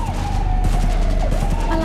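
A burst of gunfire rattles in Cyberpunk 2077, thick and rapid. A wavering siren-like tone and low vehicle rumble sound throughout the short, loud moment.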